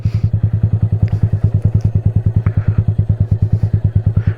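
A motorcycle creeps slowly uphill on the clutch, its engine thumping in a loud, close, evenly spaced low beat with a slight rattle over it.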